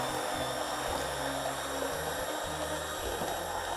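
A blender purees dal soup, giving a steady, loud motor whine with a buzzing drone that stays constant throughout and no voices.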